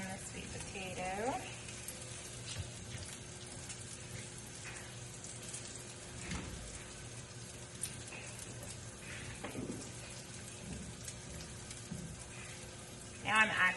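Sweet potato frying in a pan for a Thanksgiving side dish, a faint steady sizzle with scattered crackles and a few soft clinks, quiet throughout.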